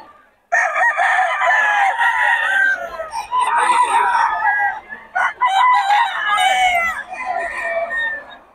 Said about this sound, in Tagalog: Gulo naman itong manok na to